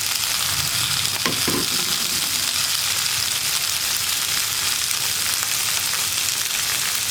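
Chopped vegetables with dried red chillies and curry leaves sautéing in hot oil for masala dosa filling, a loud, dense, continuous frying hiss close up with a brief stir near the start.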